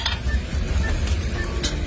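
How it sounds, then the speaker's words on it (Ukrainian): Carrots and mushrooms sizzle steadily in a hot frying pan while a utensil stirs and scrapes, with occasional light metallic clinks. "Додаємо моркву, грибочки, хай все протушиться на сковорідці."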